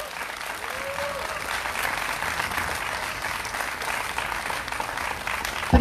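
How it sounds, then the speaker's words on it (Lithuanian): An audience at an outdoor 2020 stage-talk event applauds warmly. The dense, even clapping is sustained throughout without a break. "kur jūsų plojimai"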